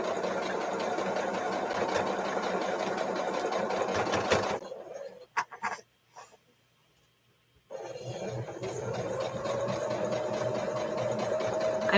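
A sewing machine quilts a shamrock quilt block, stitching in a steady fast whir that stops briefly with a few clicks and then resumes at the same pace, close and loud.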